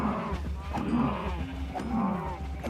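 Cows in the Minecraft-style survival game low in drawn-out moos, one after another, against steady game ambience, with some talk underneath.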